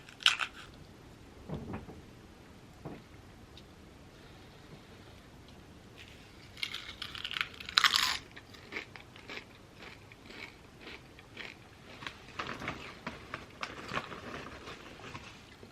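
Packy chips crunched while eating plain, with close bites and scattered crisp crackles and chewing through the middle and later stretch, a louder crunching burst around the midpoint.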